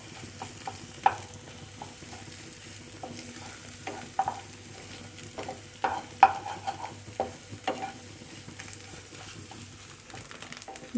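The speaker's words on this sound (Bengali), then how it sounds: "ডিমটা একটু ঝুরঝুরে করে ভেজে নেব।" Egg frying in a pan while being stirred into crumbly scrambled bits for stale-rice fried rice, with light irregular scrapes and taps of the spatula over a soft continuous sizzle, close and moderately quiet.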